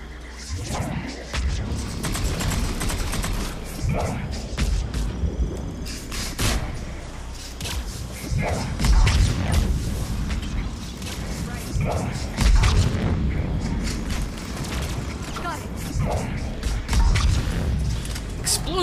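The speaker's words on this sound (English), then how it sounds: "Explosions everywhere." Explosions, gunfire and creaking mechanical clatter from the video game Mass Effect 3, dense overlapping booms and thuds throughout, with a voice talking over the action.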